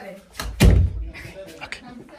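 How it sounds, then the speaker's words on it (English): A door is opened with a sharp thud and rattle near the middle, followed by softer knocks, while people talk around it. "Gracie, you can open the door in 7 seconds."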